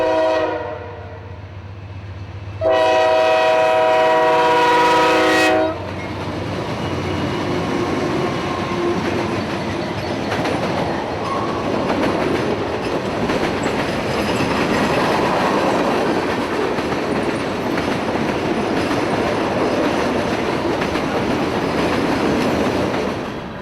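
Freight train of tank cars, gondolas and covered hoppers on the Wildwood Sub near Tampa: a loud train horn blast, then a long continuous roar and rumble of cars passing close by.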